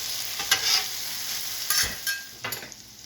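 Sloppy Joe sauce sizzles on a Steelmade griddle while a spatula scrapes and turns it, several distinct scraping strokes over a soft steady fry, close and fairly quiet with no talking.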